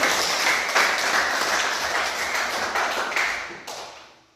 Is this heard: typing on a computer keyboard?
no